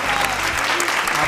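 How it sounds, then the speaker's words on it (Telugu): Live audience at a quiz-style show clapping loudly in a dense, continuous burst of applause, with a voice talking over it. "గట్టిగా క్లాప్స్ కొట్టండి ఒకసారి"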